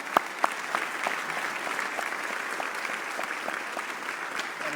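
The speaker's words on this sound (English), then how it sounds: "let's give her a round of applause" Conference audience at an economic forum gives a round of applause, steady moderate clapping from a seated crowd with a couple of sharp nearby claps at the start.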